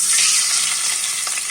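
Onion, ginger and garlic paste frying in hot oil in a pot, a continuous close, bright sizzle with faint stirring scrapes and no talking.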